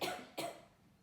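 Two quick, close, breathy coughs in a row, faint and deliberate, like a forced cough, followed by quiet.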